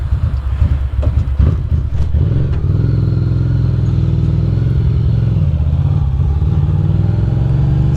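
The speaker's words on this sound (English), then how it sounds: "I just don't want to start my bike because it's pretty loud" A Ducati motorcycle in New York City starts with some clattering, then settles into a loud, close, steady engine idle with a deep throb.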